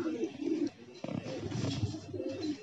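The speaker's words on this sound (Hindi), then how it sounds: "ये कबूतरी बैठ गई इधर" Pigeons coo in soft, low rounded phrases near at hand, repeating through a faint background hum.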